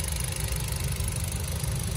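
A 2017 Hyundai i10 Grand sedan with a 1.2-litre engine idles steadily, a continuous low rumble up close with no pauses and no talking.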